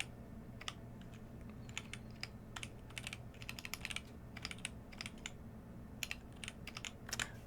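Steady, uneven keystrokes on a computer keyboard, soft and close over a low background hum, coming in quick bursts with short pauses while someone types code.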